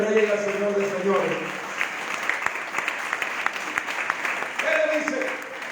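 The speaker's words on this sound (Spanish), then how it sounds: "Den un fuerte aplauso al Rey de Reyes y al Señor de Señores" A church congregation breaks into applause during a sermon, a dense steady clapping that runs under a preacher's amplified voice and sung or sustained tones.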